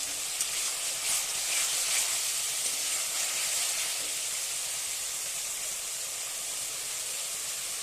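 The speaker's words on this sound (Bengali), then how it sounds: "মশলাটা কষিয়ে নেওয়া হয়ে গেছে, দিয়ে দেবো একটা তেজপাতা।" A bay leaf dropped into fried spice paste for a Bengali pabda fish curry sets off a steady, bright hiss and sizzle that holds evenly throughout, close and unbroken, with no voices.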